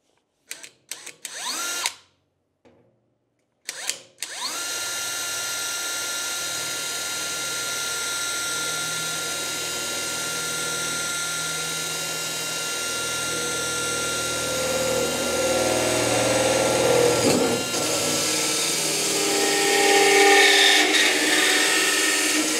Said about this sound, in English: So obviously now just let's just cut the first one with a hole saw.